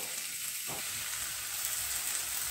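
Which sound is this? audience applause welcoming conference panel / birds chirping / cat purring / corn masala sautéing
corn masala sautéing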